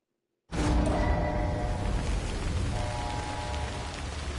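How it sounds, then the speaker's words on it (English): Rain in Death Stranding starts abruptly after a short silence, then falls as a steady, dense hiss of drops on surfaces, fairly loud and even, with no talk. "Oh Lord, it's raining."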